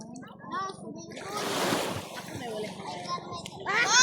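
Children splashing and bathing in warm water at a seaside spot in Zamboanga, with a steady wash of splashes and surf under lively kids' voices and adult chatter close by.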